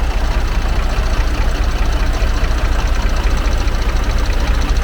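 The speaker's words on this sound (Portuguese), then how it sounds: "Pra quem gosta de ver motor em funcionamento" A Viação Itapemirim bus engine idles loudly up close, a steady, rapid mechanical chug and rattle that holds even throughout with no voices over it.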